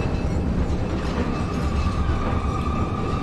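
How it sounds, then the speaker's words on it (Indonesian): A mine cart rushes fast along rails in the Resident Evil 4 video game, a continuous loud rumbling roar with rattling rail noise and a faint high whine, no speech over it. "waktunya kereta kita berjalan cepat"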